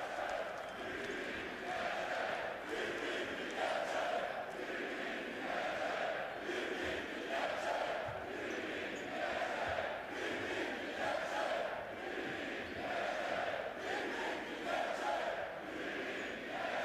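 Rytas Vilnius basketball fans in an indoor arena chanting and cheering together after a game, a loud, steady crowd roar with rhythmic swelling chants throughout.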